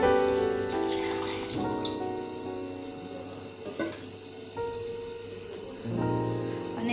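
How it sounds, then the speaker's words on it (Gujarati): Water is poured into a pan of cream (malai) while making ghee, a soft, steady trickle and splash heard faintly under background music. "પછી તેમાં પાણી નાખી દઈએ છીએ"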